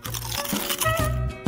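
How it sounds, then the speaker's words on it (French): Crispy, juicy fried food bitten at close range, sharp crunches and crackles in quick succession over about a second and a half, with a faint vocal sound mixed in. "C'est tellement croustillant et juteux."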